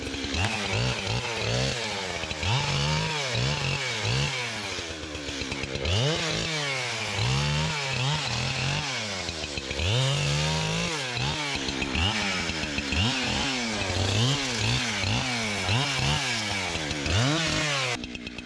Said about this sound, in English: a lot of times I'll just leave my saw running until I get back closer